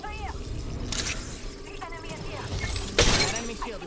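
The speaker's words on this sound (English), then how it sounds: "That enemy shield is broken." In the Apex Legends video game, an enemy's shield shatters with a sharp, bright break amid gunfire and game effects, while a voice talks over the action.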